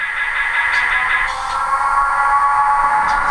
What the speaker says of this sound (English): So you can hear the fans moving